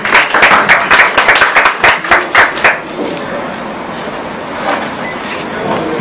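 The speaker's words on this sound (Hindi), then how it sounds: "स्वीटी जी के लिए जोरदार तालियां हो जाए।" Audience applause at a Bhojpuri film music launch and muhurat event: a burst of loud, rhythmic clapping in unison for a few seconds that gives way to a softer, diffuse crowd murmur.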